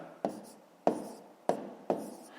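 A pen strokes out numbers on paper for a column multiplication, four distinct taps-and-scratches evenly spaced, close and quiet.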